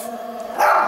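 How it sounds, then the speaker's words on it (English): An angry dog near La Tuna Canyon Road lets out one sudden, loud, close bark at the end, after a stretch of steady background hum. "Angry dog around here."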